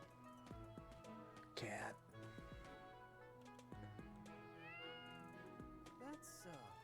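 A cat meows repeatedly in the video game Fire Emblem Three Houses, short tonal mews over a quiet game soundtrack with soft ticking, one longer wavering call near the end.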